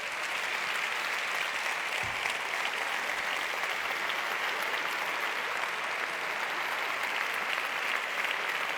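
Applause from an audience at a magic show, steady and dense with no pause for nearly nine seconds, moderately loud with no talking over it.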